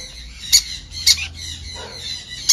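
A sun conure chick squawks during hand-feeding, with three short sharp squawks spaced about half a second apart and another at the end over quiet background noise, close by.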